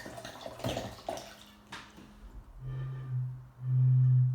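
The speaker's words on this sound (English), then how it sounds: "If I pour some water out," Water poured out of a bottle, with a brief splashing gurgle followed by a lower hollow tone resonating in the bottle's air column, close and clear, with no talking over it.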